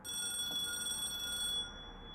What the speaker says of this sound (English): And then the telephone started ringing.